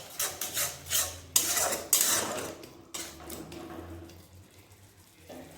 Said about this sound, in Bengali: মশলাটা ভালোভাবে কষে নেব